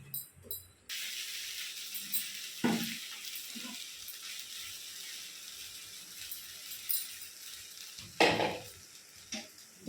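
Vegetable poha made from flattened rice frying in oil in a pan, a steady hiss of sizzling with occasional scrapes and clanks of stirring against the pan, fairly close and without talking.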